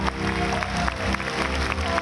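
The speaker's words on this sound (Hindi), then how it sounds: "जोरदार तालियां फॉर भक्त भागवत प्रभु" Audience applause fills a Krishna devotional concert hall in Mumbai, a dense steady clatter of many hands running the whole stretch, with sustained musical tones humming underneath.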